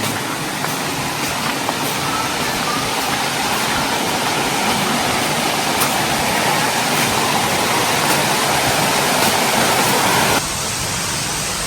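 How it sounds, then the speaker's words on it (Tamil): A waterfall at a cottage in Madurai roars as a loud, steady broadband rush that continues unbroken, dropping slightly in level near the end. "ஒரு வாட்டர் பால்ஸ் தரமான வாட்டர் பால்ஸ் இருக்குது"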